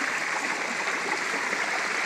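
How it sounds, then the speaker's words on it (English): A farm water system pipe pours a steady stream into a bucket, making a continuous, close rushing splash that stays even throughout. "I just got the water pipe feeding from up above there and coming down here into the bucket"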